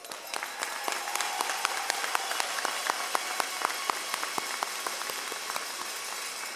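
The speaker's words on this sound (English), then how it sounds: "I want to have a special round of applause for our lone finalist, Mr. Fred Perez." Audience applause at a back-to-school gathering, many hands clapping with individual sharp claps standing out, steady and fairly close, continuing without talk.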